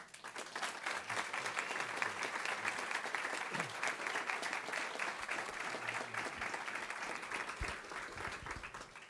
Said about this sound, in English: I know you're just clapping now